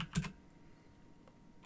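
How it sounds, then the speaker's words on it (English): A brief cluster of keystrokes on a computer keyboard while entering network router configuration commands, a couple of close clicks at the start followed by quiet room tone. "We'll just type it in."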